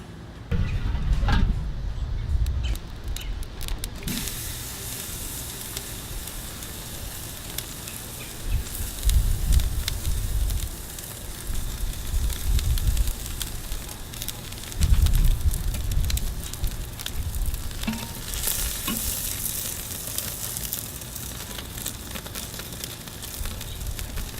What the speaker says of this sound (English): I'm getting ready to put our steak on the grill